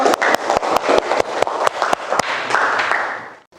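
Classroom applause from a class of seventh-grade students, with dense clapping rising and then cutting off sharply near the end.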